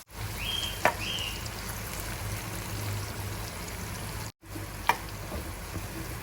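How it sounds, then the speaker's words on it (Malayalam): Green chillies, garlic and chopped small tomatoes sauté in a pan for a drumstick-leaf sambar, giving a steady soft sizzle with a brief break and a couple of light clinks. "കൂടെ തന്നെ 2 ചെറിയ ടൊമാറ്റോ അരിഞ്ഞതും കൂടി ഇട്ട് നന്നായിട്ട് വഴറ്റിയെടുക്കുക."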